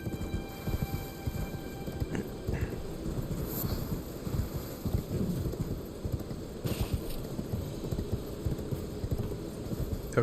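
A horse in a video game moves with soft, rhythmic clip-clop hoofbeats, fairly faint and steady under a low wind-like background, with no talking.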